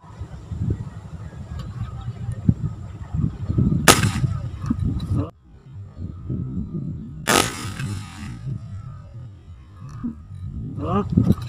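Two sharp, loud gunshots crack a few seconds apart amid outdoor background noise, with people talking quietly around them.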